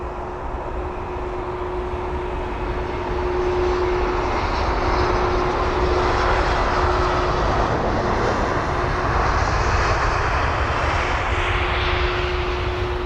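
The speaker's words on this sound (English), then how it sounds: "Just got an arrival to catch as well. I think that's the A320 by the looks of it." An Airbus A320 arriving at London Heathrow, a loud, steady jet engine roar with a sustained tonal hum that swells and stays strong throughout, heard alone without voices.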